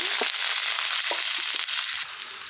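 Sliced onions and green chillies frying in oil with urad dal, cumin and mustard seeds: a steady, loud hiss with a few soft stirring clicks, easing slightly near the end, no talking.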